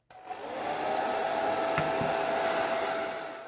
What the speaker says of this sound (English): Using a blow dryer helps speeding up the drying process, so I'm going to gently blow some hot air into the jar.